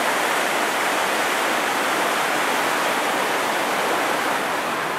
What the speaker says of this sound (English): Water under the bridge.